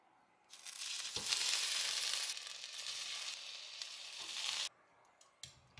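Beef short ribs go into an air fryer preheated to 400 degrees, producing a close, bright sizzle that swells for about four seconds, with thuds of placement, then cuts off to quiet handling clicks.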